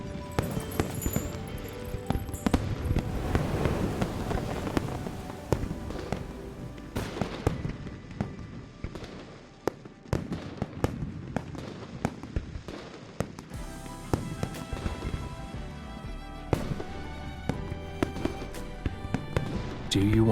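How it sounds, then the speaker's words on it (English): Fireworks burst and crackle continuously in Hongning City in the video game Love and Deepspace, dense popping and booms layered with music and a speaking voice throughout. "Do you want to set off fireworks in Hongning City?"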